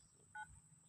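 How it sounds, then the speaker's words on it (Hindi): A single short telephone keypad tone beeps once, faint and clean, over quiet background noise. "इसके जानने के लिए जेई वीरेंद्र कुमार यादव का फ़ोन करते हैं"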